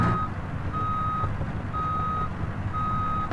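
A truck backing a trailer into a spot gives off steady, evenly spaced reversing beeps over a loud, constant diesel engine rumble close by.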